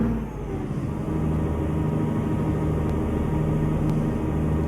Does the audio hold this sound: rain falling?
no